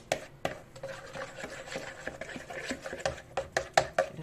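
A spoon stirs a yeast and flour mixture for sweet walnut buns, giving soft scraping and clinking taps against the bowl that come in an irregular rhythm, close and fairly quiet.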